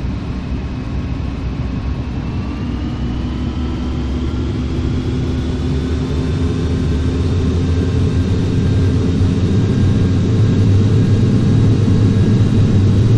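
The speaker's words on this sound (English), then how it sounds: "We're beginning our taxi and expect to be first in line for takeoff." An airliner's jet engines roar as the aircraft departs Amsterdam in Flight Simulator X. A broad, steady whine and rumble swells gradually, with rising turbine tones and no talking.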